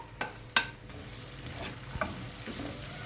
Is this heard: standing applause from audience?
no